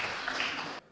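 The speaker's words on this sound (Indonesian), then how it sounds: "Oke, tepuk tangan buat depan." A seminar audience gives a short burst of applause, clapping fairly quietly and evenly before it cuts off abruptly after less than a second.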